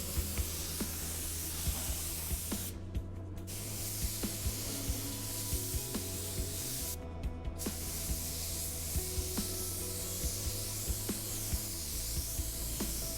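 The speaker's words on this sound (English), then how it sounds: "Here I am applying my clear coat carefully." Spray gun laying clear coat onto a car bumper at about 29 psi, a steady continuous hiss running throughout with two brief cutoffs where the trigger is released, close and moderately loud.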